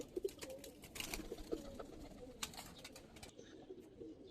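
Pigeons of an old Giribaz highflyer line in a loft coo softly and intermittently, low murmurs repeating over faint background rustle and scattered brief noises, with no one talking.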